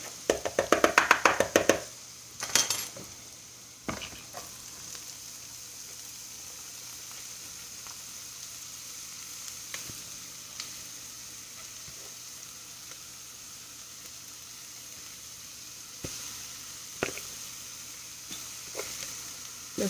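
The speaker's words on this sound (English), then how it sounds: "am sauteing onions and garlic until they're a little brown" Onions and garlic sauté in a pot, a steady soft sizzle running throughout, with a burst of louder clattering and stirring near the start and occasional faint taps of a utensil later on; no talking.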